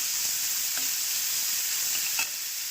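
Onion and tomato sauté on low flame in a pan for vermicelli upma, giving a soft, even sizzle with a couple of faint utensil touches, no voices.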